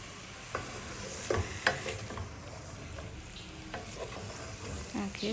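Goat meat sizzles and bubbles in a hot pot for a Ugandan pepper goat dish, a steady frying hiss broken by a few scraping stirs and soft knocks, heard alone.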